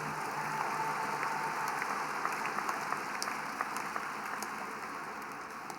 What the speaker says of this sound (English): I noticed most of the applause was coming from the parent section of the arena